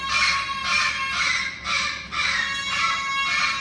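Loud, harsh cockatoo calls sound close by in a rapid series of raucous screeches, with a short break in the middle and no talking.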